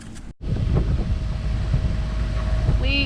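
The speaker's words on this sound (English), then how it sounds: "So let's start the engine and roll out." A sailboat's engine drones steadily as the boat leaves its mooring out of Key West, a constant low rumble mixed with wind buffeting the microphone and the wash of water, with no talking over it.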